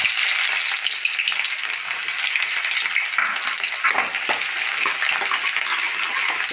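Chopped onion sizzling steadily in a hot pan for kadala curry, a loud continuous frying hiss with occasional bursts, no talking.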